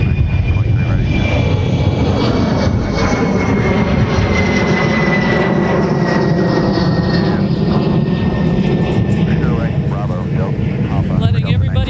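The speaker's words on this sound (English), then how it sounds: "That was one of the more loud Embraer 175" A SkyWest Embraer 175 jet rolls for takeoff at Minneapolis–St. Paul airport, its engines giving a loud, continuous roar with a faint rising whine. A voice talks over the noise throughout.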